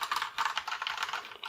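Rapid typing on a Cherry MX Board 1.0 TKL RGB mechanical keyboard, dense overlapping keystroke clicks in quick irregular bursts, close and clear with no talk, as many keys are pressed together in an anti-ghosting test.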